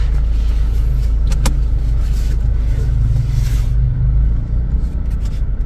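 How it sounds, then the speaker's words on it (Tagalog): A Toyota Fortuner being driven, its engine and road rumble forming a steady, loud low drone throughout, with a few faint clicks and rattles inside the cabin. "Si Carlos na nagdadrive"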